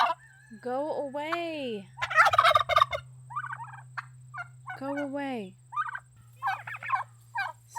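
Farm turkeys gobble loudly in repeated rattling bursts, with a person speaking briefly between the calls.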